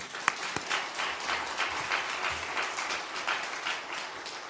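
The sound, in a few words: congregation applause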